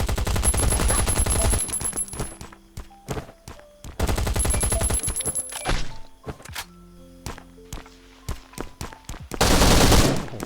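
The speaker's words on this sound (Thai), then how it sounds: "เสียงป้อมนี่คือโคตรดังเนี่ย" A turret in the video game Last Island of Survival fires loud, rapid automatic bursts, pausing between volleys with scattered single thuds and shots, then ends in a sharp, heavy burst.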